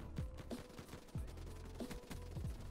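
Gunfire in a shooter game, with bursts of distant, fairly faint shots and bullet whizzes repeating over a dense low background.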